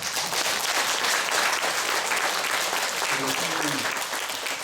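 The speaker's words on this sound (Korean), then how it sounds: "우리 박수 한번 쳐주시죠." An audience at a Catholic lay assembly in Gwangju breaks into steady, sustained applause that fills the room, with a voice briefly audible beneath the clapping near the end.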